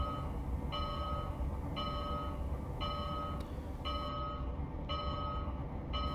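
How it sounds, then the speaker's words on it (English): A passing train in a virtual New Haven Railroad simulation gives a steady, loud rumble, with bright tonal chimes repeating roughly every second throughout. "Another New York Central / Pennsylvania stand-in train out to our right"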